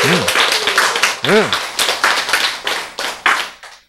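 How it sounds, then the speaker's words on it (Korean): An audience claps together during a church sermon, a burst of dense, fairly close applause lasting several seconds with a voice sounding over it before it fades out. "박수!"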